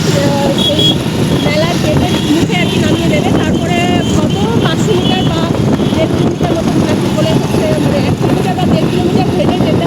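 Two people ride a motorbike through a crowd heading to the Maha Kumbh fair, with a steady engine drone and loud wind rush close to the microphone and talking throughout.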